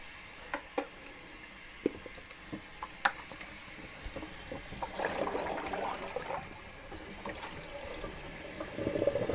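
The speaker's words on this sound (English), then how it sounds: "I'm going to put it back into this wash water" Photographic print being washed in a darkroom wash tray, soft water sloshing and splashing with small clicks and taps, faint and close, building to steadier swishing toward the end.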